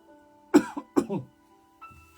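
Two short, rough throat-clearing bursts close to the mic, one after the other, followed by quiet room tone.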